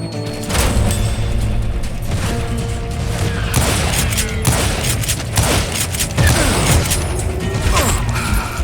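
Gunfire from a gunslinger duel in a ghost town in Call of Juarez: Gunslinger: loud sharp shots crack out in irregular bursts over a dense, rumbling game soundscape with mechanical clicks, with no talking.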